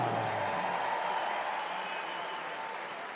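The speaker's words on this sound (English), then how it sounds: "please give a big round of applause for Kelvin" Applause from a speed skating arena crowd as a Dutch skater is introduced in lane two, a steady broad clatter of clapping filling the whole clip, with a faint announcer's voice beneath.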